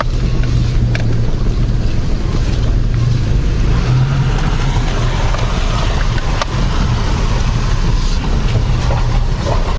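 A 4x4 vehicle driving across Georgian wildlands, a loud, steady low engine and road rumble with rattling, continuous throughout without talk.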